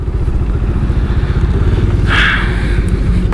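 Motorcycles of a riding group idle and rumble on a highway bypass, a loud, steady close-up engine chug with a brief hiss partway through and no speech.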